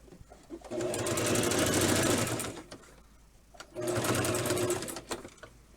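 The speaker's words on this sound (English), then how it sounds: "we're going to go around that with a straight stitch a couple times as well" A sewing machine straight-stitches doll dress fabric in two close, steady bursts of rapid whirring, each lasting about two seconds with a short quiet pause between them.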